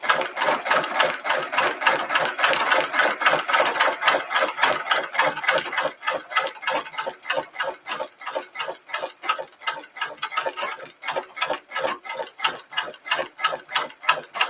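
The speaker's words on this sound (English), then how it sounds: "We're on the stitching the bulky side right now." An embroidery machine stitching the bulky side of an envelope chemise runs alone with a fast, steady mechanical ticking rhythm, each needle stroke a crisp clatter that continues evenly throughout.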